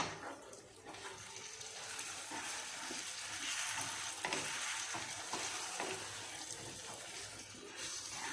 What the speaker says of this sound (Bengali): এক স্পুন জিরার গুঁড়া দিয়ে আবারও মিক্স করে নেব